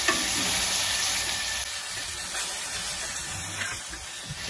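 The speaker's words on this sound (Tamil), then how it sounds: "அந்த கருவேப்பிலையை அதில் போடுறேன்." Curry leaves dropped into tomatoes frying in a pan for chutney, a steady close hiss and sizzle with faint stirring underneath, continuous throughout.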